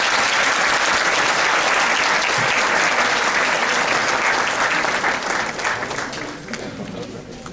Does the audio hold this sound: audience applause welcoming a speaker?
yes